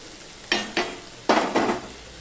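Fried okra is added to a spice masala in a pan, and a spoon stirs it in four quick, close scraping strokes over a faint sizzle, with brief pauses between them.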